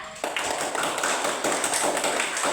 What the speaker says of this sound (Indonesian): sekali lagi kasih tepuk tangan buat kelompok Garuda